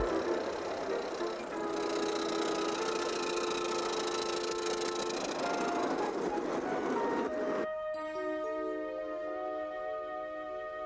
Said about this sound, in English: There's even a 5-inch gauge train for the kids to enjoy at the museum.